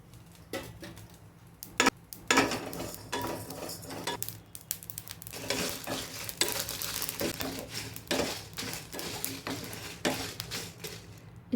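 Cumin seeds dry-roasting in a pan with little or no oil, a spoon stirring and scraping against the metal in a steady run of clinks and rustles with a faint sizzle, close by and with no talking.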